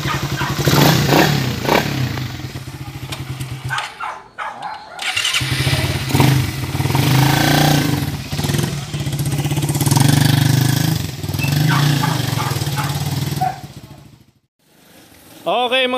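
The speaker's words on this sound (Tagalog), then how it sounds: "Okay na yung makina. Smooth na." A 2018 Suzuki Raider 150 carbureted motorcycle engine running after a full refresh, a loud close steady idle with revs rising and falling, a brief drop near the end, with people talking over it.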